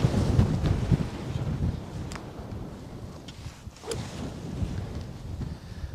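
Wind gusting across Bro Hof's Stadium Course on a golf day, a low, steady rumble buffeting the microphone, swelling and easing for several seconds with no talk.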